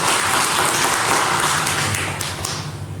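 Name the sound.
congregation applause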